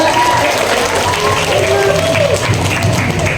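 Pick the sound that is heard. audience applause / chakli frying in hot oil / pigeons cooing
audience applause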